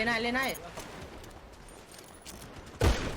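Gunfire in the GTA video game, one sharp, loud burst of shots near the end, after a voice speaks briefly at the start.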